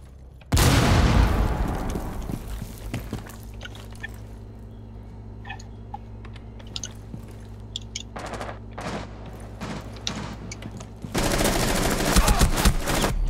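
A grenade blast and bursts of gunfire in the video game GTA 5, with a loud boom near the start, then a long rumbling tail, scattered shots and a heavy rush of noise near the end.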